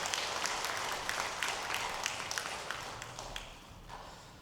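Applause from a church congregation for the Eunpyeong worship team after prayer, a fairly faint, steady patter of clapping with scattered sharper claps, fading slightly toward the end.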